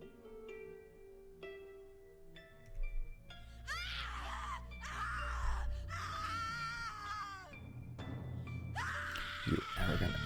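In the dark video game The Cat Lady, a person lets out several strained, wailing screams in bursts over low ominous tones, loud and close, breaking off between cries.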